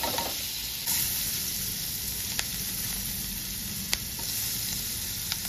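Butter sizzles in a hot wok, a steady close crackling hiss that runs throughout with a few sharp pops and no talk.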